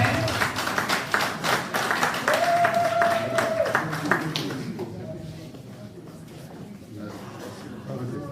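An audience at a political party gathering applauds, a thick, continuous round of clapping that builds and holds for several seconds before thinning out. A voice carries on over the tail end.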